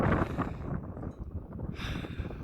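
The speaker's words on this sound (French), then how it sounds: "Par contre il y a beaucoup de vent" Strong wind on a mountain path toward the Petite Rhune summit buffets the microphone with a low, rushing roar that gusts unevenly throughout.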